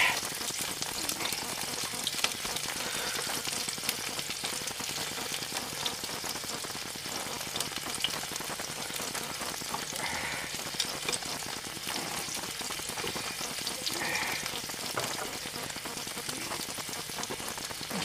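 Hot oil and beef fat sizzle on a pan while birria tacos cook, a dense, steady crackling hiss that runs unbroken, fairly close, with no voices.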